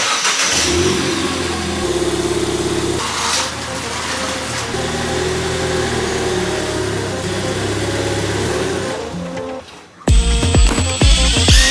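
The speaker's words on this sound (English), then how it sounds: "drive up on the wood so we're a bit higher" A Ford Fiesta ST idles and revs up close as it creeps onto wooden blocks in a garage, engine note rising and falling steadily before an abrupt cut to a harsher burst of sound.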